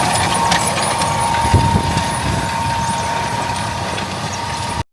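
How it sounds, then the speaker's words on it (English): A Case IH Magnum 305 tractor pulls a Kinze 24-row corn planter across an Ohio field, producing a loud, close, steady engine drone with a sustained whine and rattling mechanical clatter, no voices. "they are planting corn with their Case International Magnum 305 tractor, pulling a Kinze 24-row planter"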